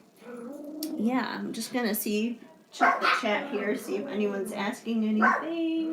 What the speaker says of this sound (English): my dogs keep chiming in too, so you may hear some barking in the background.